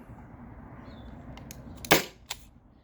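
A Byrna SD launcher fires an aluminum round through a chronograph: one sharp, loud crack with a snappy tail, then a smaller click a moment later, over a low steady background hum.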